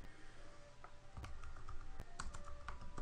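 Keys on a computer keyboard click and tap in a quick, irregular run, faint and close over a low background hum.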